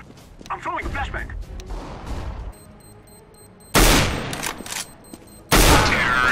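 In CS:GO a flashbang grenade goes off, after voices chatter, there is a quiet pause with a high ringing tone, then two loud bursts of noise, the second one blasting hard near the end.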